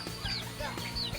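Soft, steady clucking from a few nearby turkeys and chickens in a hut, with low muffled rustling beneath and no voices.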